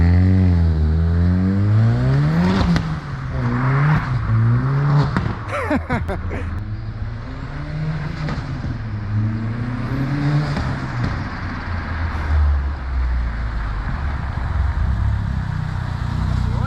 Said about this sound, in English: The 180 van goes for its first little drive.